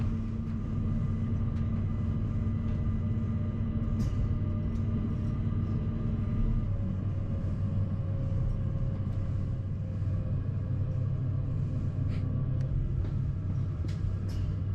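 A rack railway train on the Zentralbahn climbs above the valley near Giswil, rumbling steadily with a low mechanical drone and occasional clanks and squeaks, continuous throughout with no voices.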